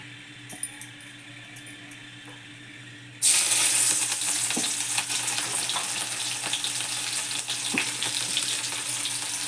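Fenugreek (methi) leaves drop into hot oil and burst into a loud, steady sizzle that continues with occasional stirring clinks, following a quieter stretch of faint kitchen clatter.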